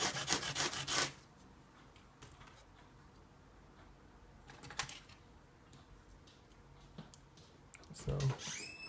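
Sanding a small plastic Tamiya Mini 4WD VS chassis part by hand, short rasping rubbing strokes, loudest in a quick burst at the start and again near the end, with quieter scratchy passes between.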